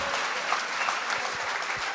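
An audience at a poetry gathering claps steadily, a dense, even wash of many hands at moderate distance, with low thumps underneath.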